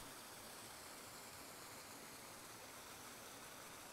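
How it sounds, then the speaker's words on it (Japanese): A flowing river stream in a natural setting, a soft, steady wash of rushing water heard faintly and evenly, with no voices or other sounds on top. "川の音、鳥の声、さまざまな音が聞こえてきます。"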